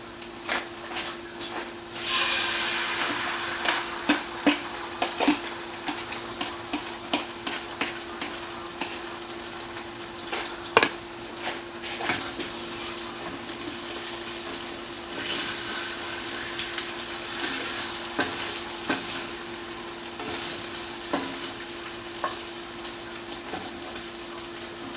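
Egg frying in a hot pan for a breakfast sandwich, giving a steady faint sizzle and crackle with scattered small pops and clicks throughout, and no talking.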